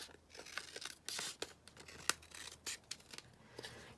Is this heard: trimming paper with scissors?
yes